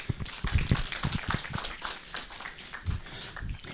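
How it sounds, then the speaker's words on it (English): At a Zimbabwean UNESCO conference on AI and information access, a small group claps sparsely, with loose, uneven individual hand claps at close range. "let's just give you a round of applause."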